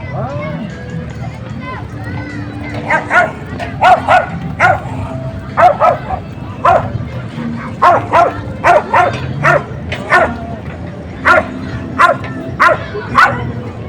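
A dog barks repeatedly in short bursts with occasional whimpering yips, over a steady background murmur and some voices at Manila Bay on Roxas Boulevard.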